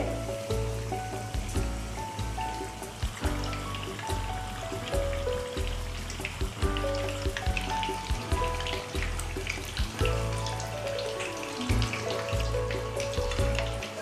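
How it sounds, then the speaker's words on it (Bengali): Chicken lachha pakoras bubble and crackle in deep oil, a steady close sizzle under background music with no voices. "উল্টে পাল্টে পকোড়াগুলো ক্রিস্পি করে ভেজে নিতে হবে"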